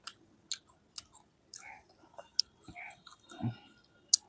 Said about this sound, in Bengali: এখন রুমে আছি, সবে স্নান করলাম, করার পর এই নারকেল খাচ্ছি বসে বসে